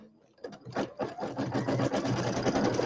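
An embroidery machine stitches quilt blocks, its needle chattering in a fast, steady rhythm that starts after a brief quiet moment and runs on loudly and close.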